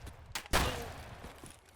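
Enemy gunfire in Escape From Tarkov, a few sharp, moderately distant shots, with one louder crack at the middle that trails off into a fading echo.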